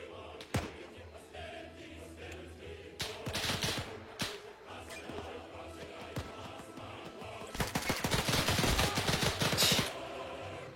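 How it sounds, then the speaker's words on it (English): MP40 submachine gun firing in a World War II video game, heard as rapid bursts of automatic gunfire with a sharp shot early, then longer bursts in the middle and a heavy fusillade near the end, moderately loud. "the MP40's fire rate isn't as fast as the PPSH"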